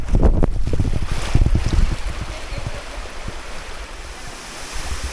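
Napittachora waterfall, the main falls on a forest hiking trail, heard as a loud steady rush of falling water mixed with gusty wind buffeting the microphone.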